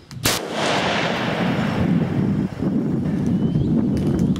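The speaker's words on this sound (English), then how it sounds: "Here it is with no brake on at all." A 6.5 Creedmoor Ruger Precision Rifle fires once without a muzzle brake, a sharp loud outdoor crack followed by a long rolling echo over steady wind noise.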